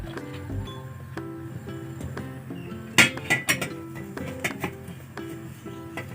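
A metal kadai is set on the stove for cooking a fish curry, giving a few sharp, close clinks and knocks that bunch together midway, with no talking.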